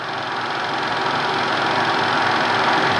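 An old Toolmaster milling machine runs in high speed at about 2400 RPM, giving a loud, steady mechanical whir with no breaks.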